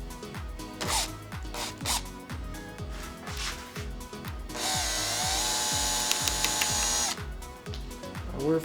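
A hand riv nut tool setting a rivet nut during an aircraft rudder build, heard as repeated ratcheting clicks and metallic squeezes in a steady rhythm, then a sustained harsher grinding stretch, close and loud with no talking.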